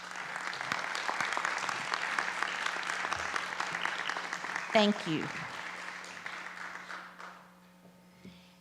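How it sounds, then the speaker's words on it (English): An audience at a school board of education meeting applauds students: a sustained, even wash of clapping from a room full of people that fades out toward the end, with a brief spoken voice partway through. "let's give these students one more round of applause"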